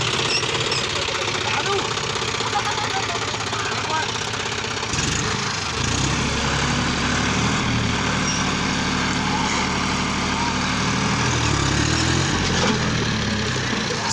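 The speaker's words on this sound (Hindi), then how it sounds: "ये जॉन डियर 51-05 तीन सिलेंडर 40 HP का इंजन है इसका" John Deere 5105 three-cylinder 40 HP diesel tractor engine running loud and close, a steady knocking idle that shifts and rises partway through as it works, with a voice talking over it.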